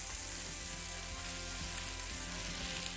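Diced onion with garlic frying in oil in a pan, giving a loud, steady, close-up sizzle that runs unbroken for the whole stretch with no talking.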